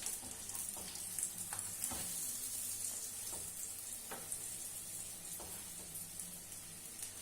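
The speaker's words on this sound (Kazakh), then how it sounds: "Котлетimiz қызарғанша қуырамыз" Chicken Kiev cutlets sizzle in a frying pan with a steady, dense crackle of hot oil. Scattered pops and light stirring clicks sit on top, and the sound stays close and even throughout with no talking.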